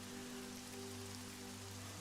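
Steady rain falls in a soft continuous hiss with no distinct drops, faint and unbroken beneath a low steady hum.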